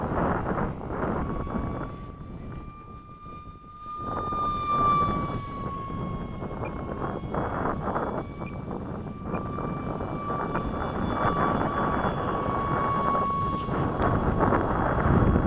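A Yak-130 jet rolls down the runway and lifts off, its engines making a loud, sustained roar with a whining tone that builds steadily over about fifteen seconds.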